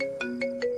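A phone rings unanswered with a tonal electronic ringtone, short repeating pulses close and clear, with no voices.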